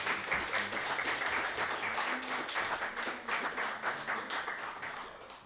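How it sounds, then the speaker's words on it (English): Audience applause in a conference room after a talk on AI and blockchain law, a steady dense patter of many hands clapping for several seconds before fading slightly, with no speech over it. "quick round of applause to say thank you to Rita."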